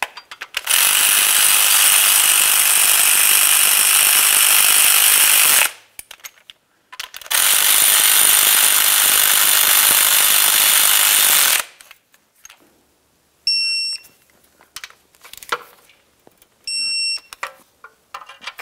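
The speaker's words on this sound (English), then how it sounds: "Let's start installing our two bolts for that catalytic converter pipe. Snug these up and torque them to 52 foot-pounds." A ratchet or power tool tightens the catalytic converter pipe bolts on a Ford Flex exhaust manifold assembly. Two long, loud, continuous runs of whirring are followed by short bursts and clicks, close up, with no talking.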